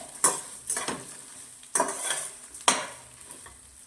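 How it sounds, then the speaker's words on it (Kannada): Fish sambar masala fries in a pan, a quiet sizzle broken by three or four distinct scraping stirs of a spatula against the pan, close up and with no speech. "ಬೆಸ್ ಇದು ಇವಾಗ ಚೆನ್ನಾಗಿ ಫ್ರೈ ಆಗಿದೆ"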